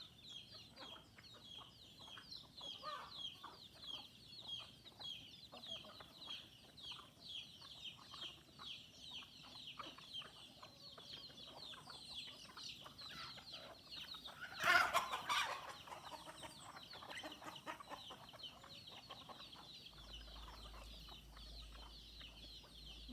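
Chickens clucking on a balcony, faint scattered clucks over a low steady background, with one louder brief burst partway through and no talk.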